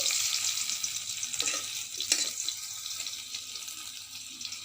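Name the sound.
potatoes frying in oil over wood stove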